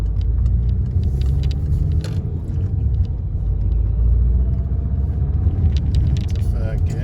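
A car pulls away from a junction and drives along a road, a constant loud engine and tyre rumble throughout, with a voice talking over it.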